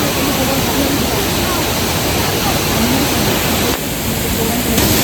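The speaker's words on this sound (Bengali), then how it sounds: "এই যে পুরো জলটা এসে ওপর থেকে দেখতে পাচ্ছ, পুরো ওয়াটারটা নিচে এখানে একটা পুলের মতন তৈরি হয়েছে" Kempty Falls in Mussoorie pours into a pool below with a steady, loud, broadband roar of falling water that fills the whole clip and dips only briefly near the end.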